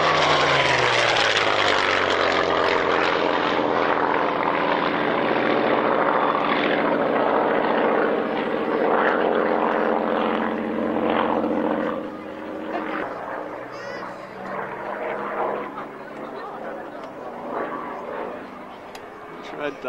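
A restored vintage military aircraft at an Old Warden airshow drones loudly overhead with a propeller engine, the sound sweeping past and slowly fading as a commentator talks over it.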